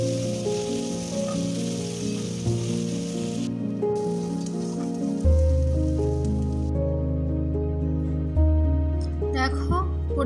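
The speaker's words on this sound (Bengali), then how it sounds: "দেওয়ার পর আমরা পেঁয়াজগুলো খুব ভালোভাবে ভেজে নেব।" Onions fry in a pan for a cauliflower and prawn curry, giving a steady sizzle under background music throughout.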